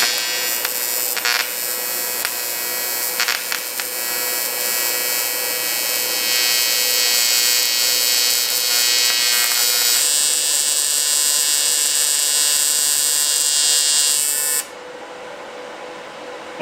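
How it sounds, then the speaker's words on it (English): A TIG welder runs while welding parts from a flooded Honda motorcycle, giving a steady, loud electric buzz and hum that holds for about fifteen seconds before cutting off sharply. "Probably turn the TIG welder on."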